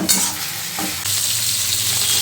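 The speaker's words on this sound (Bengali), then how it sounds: "তো এখানে মাছগুলো আমি ভেজে নিচ্ছি।" Fresh tengra fish frying in hot oil, a steady close sizzle with stirring scrapes near the start, continuing loud and unbroken.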